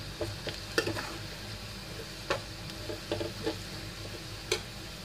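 Onions fry in a pan and are cooked until browned. A soft, continuous sizzle sits under occasional sharp taps and scrapes of a spoon stirring, all quiet and close.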